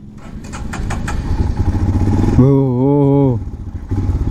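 A Royal Enfield Himalayan motorcycle engine starts and runs close by with a loud, throbbing rumble that swells and holds, while a voice briefly exclaims over it.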